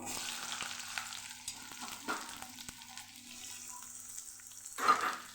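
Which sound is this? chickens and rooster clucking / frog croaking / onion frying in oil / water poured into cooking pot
onion frying in oil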